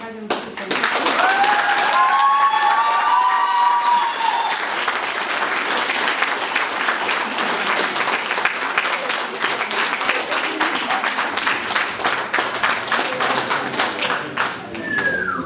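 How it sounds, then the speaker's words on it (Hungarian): Loud applause and cheering from a carnival crowd at a Farsangtemetés (burial of winter carnival) celebration in Telekfalva, dense rapid clapping filling the whole stretch with scattered voices and whistle-like calls early on. "Köszönjük szépen a sok tapsot"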